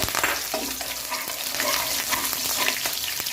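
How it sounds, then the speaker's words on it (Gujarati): Green chillies frying in hot oil with mustard seeds that have already spluttered, for a potato bhaji served with dosa; steady close crackling sizzle with scattered sharp pops and spoon clicks throughout. "આપણી રઈ તતરી ગઈ છે। હવે નાખીશું આપણે લીલા મરચાં"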